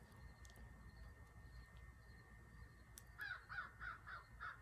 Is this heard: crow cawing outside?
yes